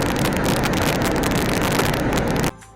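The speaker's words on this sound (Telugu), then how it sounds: "గాలి మాత్రం ఉదు తుఫాన్ వచ్చినట్టు వస్తుంది." Strong, steady wind buffets the microphone on a seaside cliff beside a port, a loud broadband roar that continues without a break and then drops sharply to a quieter hush near the end.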